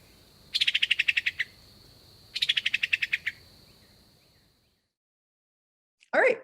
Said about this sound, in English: so that's the summer tanager